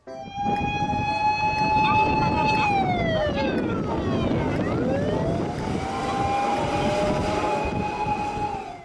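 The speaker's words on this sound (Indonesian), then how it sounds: "lihat teman-teman di sini ada mobil pemadam kebakaran" A wailing siren rises and falls in long, steady sweeps, loud and close, with toy-like tonal harmonics and a busy background clatter.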